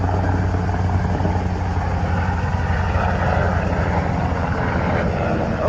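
Helicopter flying overhead outdoors, a steady droning rotor and engine roar, loud and close, holding level the whole time with no talking.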